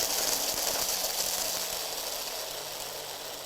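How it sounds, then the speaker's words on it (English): A blender grinding pistachios roars continuously, a dense whirring grind with a faint rattle of nuts inside, steady and close. "you put your pistachios into the blender"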